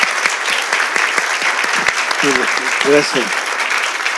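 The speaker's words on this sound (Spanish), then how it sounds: "Les voy a pedir un fuertísimo aplauso para..." An audience at a talk applauds in dense, steady clapping, with a voice speaking briefly over it near the middle.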